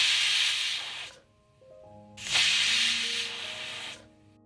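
A pressure cooker vents steam while cooking dal with chow chow (chayote), green chilli, garlic, salt and turmeric, two loud hissing whistle bursts separated by a quieter pause, with faint tonal ringing underneath.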